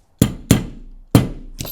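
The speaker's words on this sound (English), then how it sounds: "I'm going to try to do a little hammering here." Four sharp metallic hammer strikes knock a pin out of an Elite series or BT electric bike trainer frame, close and loud, each with a short ringing decay and uneven spacing between blows.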